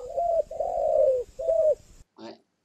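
Spotted dove cooing: three drawn-out, mellow coos in a steady rhythm, fairly close and clear, followed by a brief softer call after a short pause.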